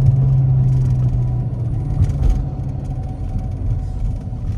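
Low, steady engine rumble from a Dodge Charger R/T AWD cruising on the road, heard from inside the car, loud and continuous with no talk.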